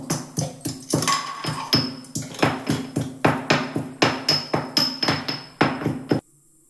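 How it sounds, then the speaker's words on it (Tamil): Two cardamom pods are crushed for coconut milk with a quick series of about two dozen sharp, close pounding knocks in a steady rhythm, ending abruptly. "இப்போ ஒரு 2 ஏலக்காய் அப்படியே நசுக்கி போட்டுக்கலாம் வாசனைக்கு"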